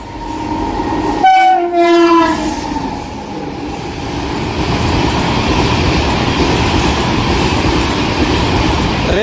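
A train hauled by a WAG electric locomotive, numbered 17646, arrives with a loud two-tone horn blast lasting about a second, then a steady rumble and clatter of wheels as it rolls in close by.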